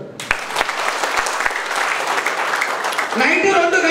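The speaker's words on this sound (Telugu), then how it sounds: "క్లాప్ కొట్టాడు." An audience at an e-bike business opportunity meeting claps steadily for about three seconds, a few sharp claps standing out at the start, before a voice begins speaking.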